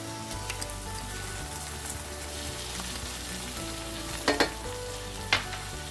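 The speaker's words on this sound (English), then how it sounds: "I'm going to fry that gently first for a few seconds, just giving the garlic some time to cook" Garlic paste frying gently with browned onions in a pan for a coconut dry chili prawn masala, a soft continuous sizzle with low background hum and a few sharp spoon scrapes near the end, no talking.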